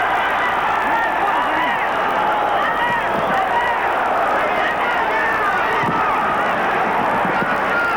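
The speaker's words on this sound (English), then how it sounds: "Crowd just waiting for the knockout." Steady roar of a boxing arena crowd during a professional bout, dense and continuous murmuring and shouting that swells slightly, with voices woven into the noise throughout.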